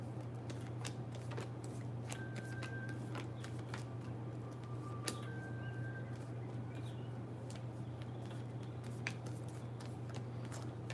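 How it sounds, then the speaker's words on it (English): Tarot cards are shuffled in soft, rapid riffles and taps across several seconds, close and quiet over a steady low background hum, with no talking. "just shuffling these cards real quick."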